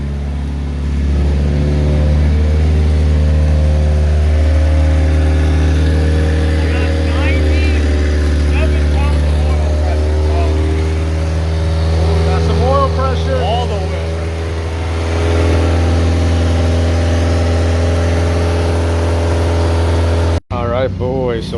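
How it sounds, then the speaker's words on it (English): Turbocharged LS VTEC swapped EG Honda hatchback idling steadily just after start-up, a loud continuous engine drone with a deep low hum throughout, while people talk excitedly over it and the running engine briefly cuts out near the end. "The car's finally running."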